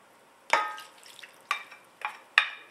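Chicken is stirred through a garlicky Senegalese yassa marinade, making four separate wet squelching strokes, each with a short clink, over a quiet background.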